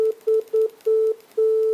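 A pure sine test tone from an oscillator in a Max patcher, keyed on and off in short and long bursts like Morse code, steady and clean with no talking.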